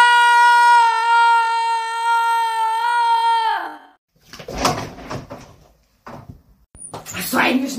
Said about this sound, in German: Eine Macke hier, die Tür zu knallen?